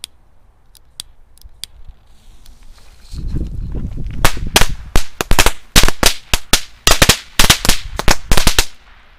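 A string of Lady Cracker firecrackers hung on a tree goes off outdoors: a few scattered pops first, then a rapid, loud chain of sharp cracks over several seconds.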